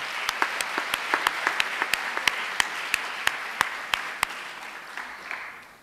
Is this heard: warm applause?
yes